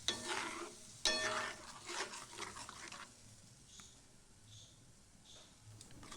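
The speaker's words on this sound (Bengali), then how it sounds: "ভালো করে মশলাটাকে নেড়ে চেড়ে নেবো" A spoon scrapes and stirs spice paste in a karai on the stove while making moong dal with fish head, with a soft sizzle underneath; a few clinks early on, then the stirring fades quieter.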